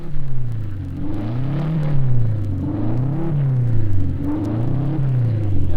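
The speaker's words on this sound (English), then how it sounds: "revving the engine while the mechanics fuss with the carburation" A 1,500 cc racing car engine at Sebring revs up and down in repeated rising and falling cycles, a close, loud throaty roar swelling about every second and a half.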